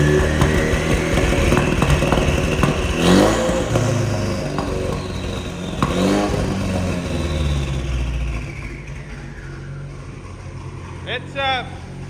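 A freshly tuned car engine, previously running rich and smoking at the exhaust, revs up loudly twice and then idles and fades. A brief voice cuts in near the end.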